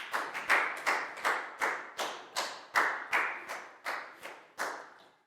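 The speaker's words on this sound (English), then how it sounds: "High five and a big round of applause" Year 4 pupils in a maths classroom clap together in a quick, regular rhythm, about a dozen sharp unison claps, each one ringing briefly in the room.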